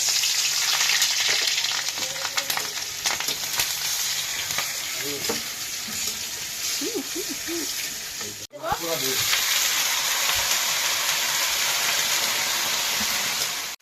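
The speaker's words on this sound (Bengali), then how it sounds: "তেল গরম হয়ে গেছে, আমি রসুন আর কাঁচা লঙ্কা একসাথে দিয়ে দিচ্ছি তেলের পরে" Garlic and green chillies sizzle in hot oil in a home kitchen, a loud, continuous crackling hiss that stays strong throughout. It is briefly broken by a short dip midway before the frying resumes just as steadily.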